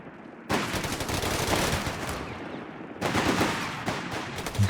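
Machine gun fire in the game Company of Heroes 3, two long loud sustained automatic bursts with dense rapid rounds, separated by a brief dip.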